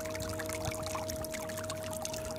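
Water from a solar-powered pump outlet pours steadily into a 24-foot pool, a continuous close splashing rush with no pauses.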